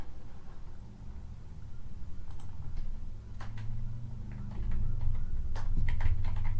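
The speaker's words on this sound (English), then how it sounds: "Sorry, there's going to be some mouse clicking here." Computer mouse clicks come in scattered sharp ticks, some in quick pairs, close and fairly soft over a steady low hum, with no talking.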